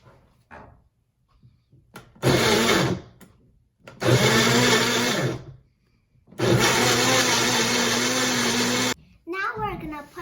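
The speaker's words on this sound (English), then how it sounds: "Now we're going to have the mixer and put this cup on it. And now we're going to mix it." An electric mixer blends a homemade milkshake in a cup, running in three loud bursts of steady whirring with quiet pauses between, and a brief rustle at the very end.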